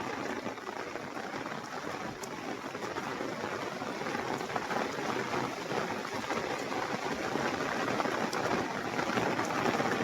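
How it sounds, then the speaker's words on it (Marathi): Heavy monsoon rain over farm fields on the way home, a dense, steady wash of noise that slowly swells louder, with no voices. "जोरदार पाऊस आहे."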